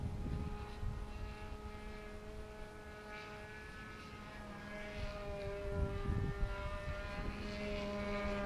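A radio-controlled model trainer airplane flies overhead, its small engine giving a steady droning whine whose pitch drifts up and down as it passes, heard from a moderate distance outdoors.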